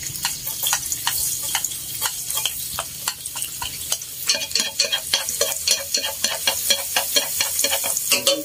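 Garlic fries in hot oil in a pot while being stirred, a close crackling sizzle with repeated sharp scraping and clicking of the utensil against the pot in an uneven rhythm.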